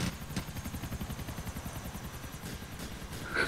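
A helicopter in the game GTA 4 chops steadily with a fast, even rotor thump, moderately loud and continuous throughout, with no talk over it.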